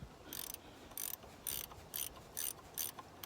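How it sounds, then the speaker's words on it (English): A 13mm ratchet wrench working bolts on an R53 Mini Cooper S during driveshaft replacement: six evenly spaced bursts of rapid clicking, close and crisp, with no talk. "you're going to want to take a 13mm ratchet wrench and break these"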